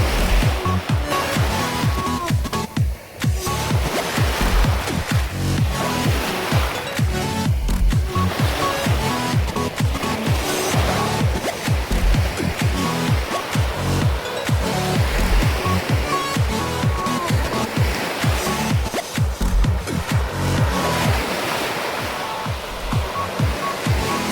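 Ocean surf on a beach rolls and crashes without a break, with a dense, loud wash of breaking waves and churning water close by throughout.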